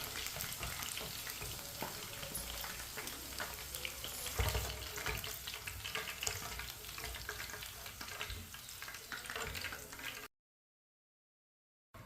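Pieces of chicken frying in hot oil in a home kitchen pan, a steady dense sizzle close by with some stirring and scraping, continuing without talk before cutting off near the end.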